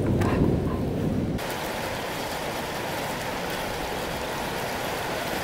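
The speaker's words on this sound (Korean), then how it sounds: "아, 비 많이 온다." Heavy rain pouring down outdoors during a thunderstorm, a dense, loud, continuous hiss and patter that holds steady, with a brief muffled stretch at the start before the full downpour noise.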